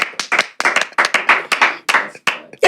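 A few people clapping in a podcast studio, a burst of close, sharp, irregular hand claps in quick succession, loud and dry with brief gaps between clusters.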